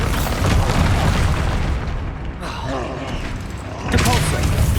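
Bombarda blasting spell going off in Hogwarts Legacy combat, heard as loud booming rumble with a brief dip midway and a fresh burst near the end, mixed with game voices.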